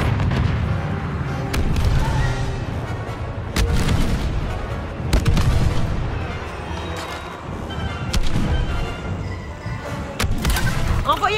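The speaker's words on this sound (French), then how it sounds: "Barrage orbital réussi." Orbital strike explosions in Star Wars Battlefront II, a battle game, land as a string of heavy, booming blasts at irregular intervals, loud and close, with rumbling between the impacts.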